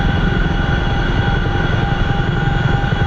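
An MH-47 Chinook helicopter flies in the DCS combat flight simulator during a spec ops support mission in Afghanistan, its loud, steady rotor and engine drone filling the cabin without pause.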